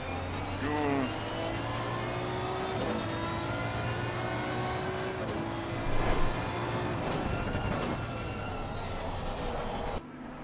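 Race car engines in a PC sim racing series at the Hungaroring, a steady loud whining drone with shifting pitch that holds throughout, swelling briefly around the middle before cutting down near the end.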